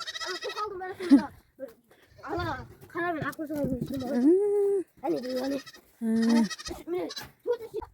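Several young goat kids bleat nearby in short, wavering cries that come in repeated bursts, with brief quiet gaps between them and some voices talking among them.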